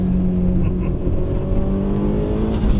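A turbocharged 1991 Mitsubishi Eclipse GSX making 450 wheel horsepower, heard from inside as its engine drones loudly under hard acceleration in third gear, pitch steadily climbing through the rev range.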